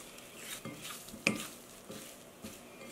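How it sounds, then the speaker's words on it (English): Cubes of tofu being tossed in a bowl with bouillon powder and potato starch, soft rustling and patting bumps with one sharper knock, quiet and close, no talk. "I'm going to toss just to coat our tofu"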